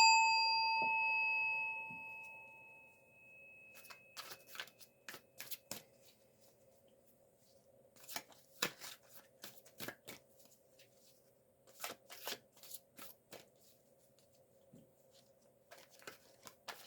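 Tarot cards being shuffled by hand in a quiet room, bursts of crisp riffling and patter that come and go for several seconds after a fading chime at the start.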